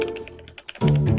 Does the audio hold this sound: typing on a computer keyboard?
yes